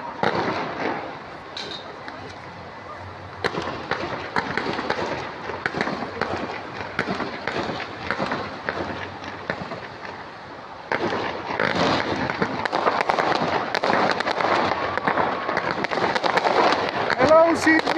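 Fireworks display over Darling Harbour in Sydney, a steady crackle and popping of bursts with a roar of crowd noise throughout, growing louder and denser in the last third.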